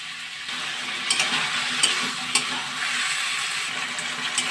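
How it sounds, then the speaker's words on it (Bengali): Pumpkin pieces fry with spices in a pan, giving a steady close sizzle broken by occasional scraping clicks of stirring, with no talk. "এবার আমি কুমড়োটা দিয়ে দিই কুমড়োর সাথে মশলাটাকে ভালো করে আবারও কষিয়ে নেব"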